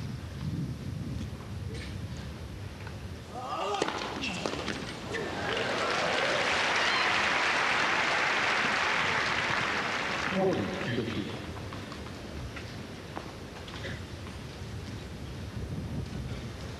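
A tennis crowd at an Indian Wells semifinal in 1998 breaks into applause that swells for several seconds and then fades, with a dull outdoor rumble and commentary before and after.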